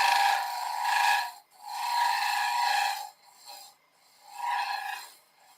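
Woodturning cutting tool roughing out the tenon on a spinning maple box blank, giving three loud, sustained rasping scrapes separated by short pauses, with no talk.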